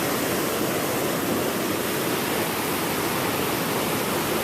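Dense, constant wash of incoming tide and surf on a Maine shore, a loud unbroken roar of breaking water with no distinct individual wave crashes and no voices.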